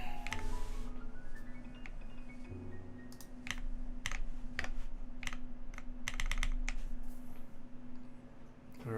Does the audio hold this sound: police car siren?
no